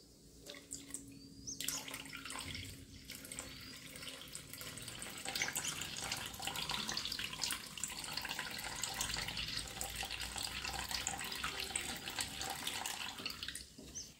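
Soaked kokum extract is poured into coconut milk for sol kadhi, a soft continuous liquid splash and trickle close by, with no talking.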